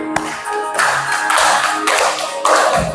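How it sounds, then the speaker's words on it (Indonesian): Hands clap in distinct bursts along with a school song, a few sharp claps followed by rhythmic clapping with musical tones faintly underneath. "Tepuk tangan."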